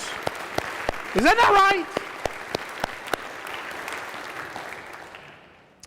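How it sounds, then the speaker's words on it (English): A church congregation breaks into applause during a Sunday sermon, sharp distinct claps at first that swell into a fuller round and gradually fade out, with a man's brief spoken question near the start. "how can we as a church not celebrate that with a round of applause?"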